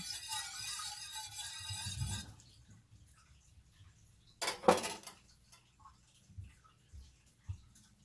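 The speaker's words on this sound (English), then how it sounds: "Whisking, whisking, and whisking." Metal whisk clatters rapidly against a bowl while fine powder is whisked for vegan Moscato wine jello shots, a busy scraping burst for about two seconds, then a few scattered clinks and taps against quiet.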